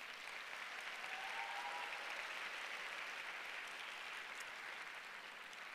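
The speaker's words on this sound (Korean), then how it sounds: "우리 일어날 때 우리 한번 축복하고 환영의 박수 하시겠습니다." A church congregation applauds in welcome of a visiting missionary and guests, a dense, even wash of many hands clapping continuously at moderate distance, with no pauses or talk.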